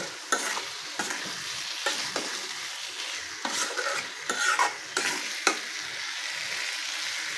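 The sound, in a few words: stirring fried pointed gourd into frying spice paste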